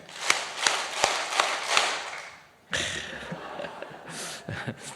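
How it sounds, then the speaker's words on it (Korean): A church congregation claps hands in unison five times, sharp evenly spaced claps ringing in the hall, followed by a shift into murmuring and rustling room sound. "이제는 박수 다시 손을 들고 박수 5번 시작"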